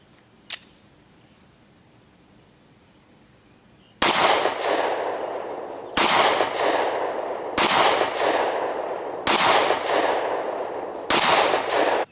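Five sharp pistol shots of Remington 9mm FMJ ammunition ring out at a slow, even pace about every second and a half, each loud and close with a short echoing tail, after a quiet lead-in with one faint click.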